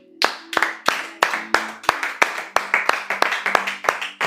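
A congregation at a religious retreat claps in praise of the Lord, sharp hand claps in a steady, slightly uneven rhythm, close and lively, without talking.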